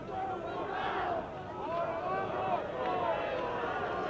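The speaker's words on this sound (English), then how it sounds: "The crowd shouting Puma." A rugby crowd at a 1968 Argentina B versus Wales XV test match chanting and shouting together, a loud surging roar with rising and falling calls heard at a distance under a commentator's voice.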